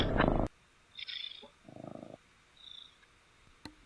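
A pet cat named Rory purrs close to the microphone, face to face with his owner, in a few separate bursts of low rumble between louder bright sounds and quieter stretches, with no one talking.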